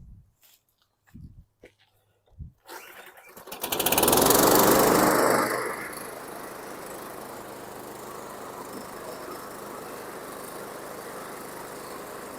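A 2000 Scotts by John Deere lawn mower engine cranks after a few knocks, roars up loudly, then settles into a steady, fainter running drone for the rest.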